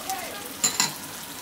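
Turmeric and cumin powder hitting hot oil with tomato in a kadai for Bengali potato dal, giving a soft sizzle under faint stirring and two brief scrapes of a utensil against the pan, close and fairly quiet.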